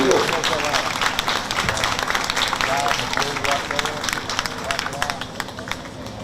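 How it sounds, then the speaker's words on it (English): A crowd at a youth baseball World Series game applauds the umpires, with scattered clapping and cheering spread across the whole stretch under background chatter. "if you can give these umpires a good round of applause"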